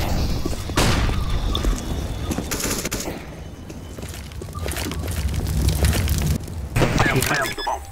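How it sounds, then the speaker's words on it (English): A flashbang grenade thrown on Dust2 in Counter-Strike comes amid loud bursts of gunfire, sharp cracks and a ringing whine near the end, with game chatter over it. "Throwing a flashbang."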